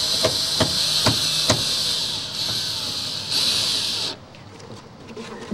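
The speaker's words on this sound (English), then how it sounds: "And I'll hold that into place, and you just drive the screws" A power drill drives screws to mount a pool skimmer, a steady high whine with a few rapid clicking knocks, then the motor cuts off into quiet.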